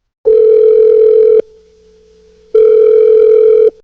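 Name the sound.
phone call ringing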